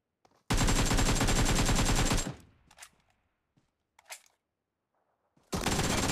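Rapid automatic gunfire in the mobile battle royale game PUBG Mobile, on the Livik map: a loud sustained burst, then a few faint scattered shots, then another loud burst at the end.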